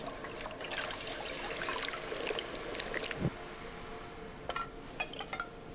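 Clear water trickles and pours over uncooked rice in the video game Cairn, a steady soft splashing stream with a few light clinks near the end.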